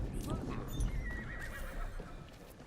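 A horse whinnies loudly near the start in Assassin's Creed Shadows, with hoof clip-clops and game ambience continuing underneath.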